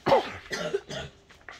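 A person with flu coughs several times in quick succession, close and loud, the coughs fading slightly toward the end.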